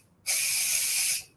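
A pressure cooker making chicken noodle soup vents a burst of steam: a loud, steady hiss that starts abruptly, holds for about a second, then fades out.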